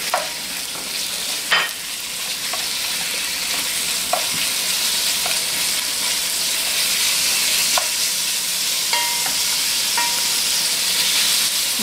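Chopped bacon fries in a pan with a continuous bright sizzle and hiss, broken by occasional utensil clicks and taps. The sound is close and steady, with no voices.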